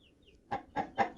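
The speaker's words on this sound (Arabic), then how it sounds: "النهاردة بكلمكم عن الفراخ البلدي اللي حضرتك بتربيها في البيت" Domestic baladi chickens kept at home cluck three times in a quick, evenly spaced run, close and clear over a quiet background.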